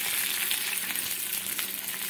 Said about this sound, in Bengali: এখন আমি জল দিয়ে দিচ্ছি পেঁয়াজের উপরে